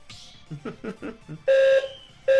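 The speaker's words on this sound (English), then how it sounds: "Oh, fire alarm." Fire alarm sounding with two loud sustained electronic beeps, close and piercing, following a stretch of voices.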